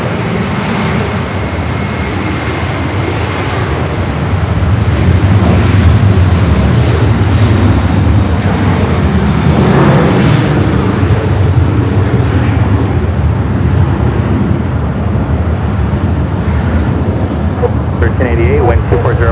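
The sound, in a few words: jet airliner taking off at LAX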